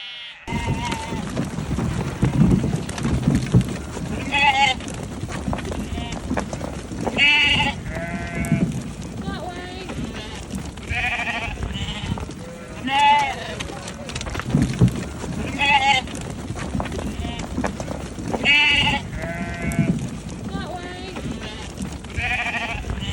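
Sheep bleat repeatedly, some near and some farther off, as the flock is moved to another field on a livestock farm, with a breezy background and occasional voices.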